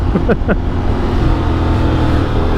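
Engine of a Honda X-ADV 750 motorcycle held in second gear, a loud, steady rumbling drone with a couple of brief rising blips near the start, close and continuous throughout.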